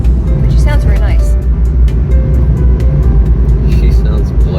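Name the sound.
car's automated voice announcement in Japanese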